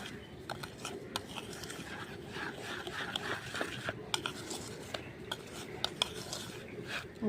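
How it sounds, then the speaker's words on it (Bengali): Semolina batter being mixed in a bowl for a breakfast dish, with steady scraping and clinking of a spoon against the bowl and soft wet stirring sounds, close and continuous, with no talk. "ভালো করে মিশিয়ে নেব"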